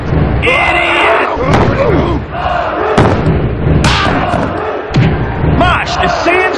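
Video game crowd cheering and roaring throughout a WWF Attitude wrestling match on the N64, loud and continuous, mixed with thuds, impacts and game sound effects.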